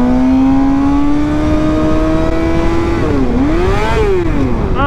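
A 2011 Suzuki GSX-R750 sport bike screaming at high RPM, a loud continuous whine that rises steadily, dips, then climbs and falls again as the throttle changes.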